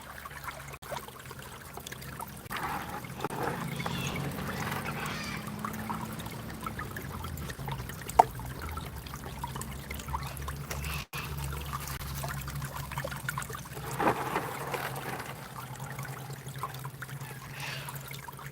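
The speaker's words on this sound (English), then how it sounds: "Now this Timu sluice, one thing I am doing is I am pretty much overfeeding it" Water trickles and pours steadily through an overfed Temu gold sluice outdoors, a continuous close liquid wash with small splashes and drips throughout, no talking.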